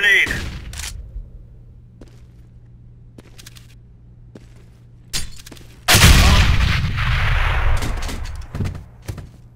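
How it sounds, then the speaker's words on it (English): Flashbang and grenade blasts in the game CS:GO: a loud burst near six seconds spreads into a long noisy roar, after scattered sharp pops and thumps over a low steady hum. "I'm throwing a flashbang. Throwing a grenade."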